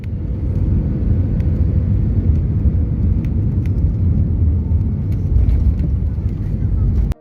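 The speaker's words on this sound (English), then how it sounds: "An EasyJet Airbus A319 lands at Frankfurt Airport in stormy conditions" EasyJet Airbus A319 landing at Frankfurt Airport during a storm with strong gusting winds: a loud, continuous low roar of engines and wind that stays steady throughout, then cuts off abruptly at the end.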